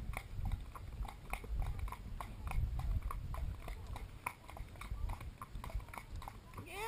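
Horse hooves clip-clop in a steady walking rhythm on a second ride out, close and fairly loud against low rumbling outdoor noise, with no talking.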